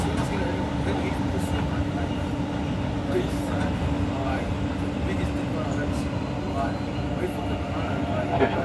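A train pulls into Fairfield Station with a steady, even rumble of wheels and carriages, heard beneath a public-address voice making an announcement.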